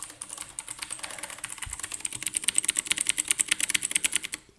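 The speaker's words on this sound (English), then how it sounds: "Do you hear the sound of me clicking on the E key to get grass?" Rapid repeated clicks of the E key on a computer keyboard, a steady stream of crisp, close taps that grows denser and louder toward the end.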